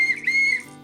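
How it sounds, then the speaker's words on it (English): A ball whistle on a survival backpack multi-tool gives a shrill, warbling blast under one second long that flutters in pitch as the ball rattles, heard close and alone. "And then we've got a ball whistle"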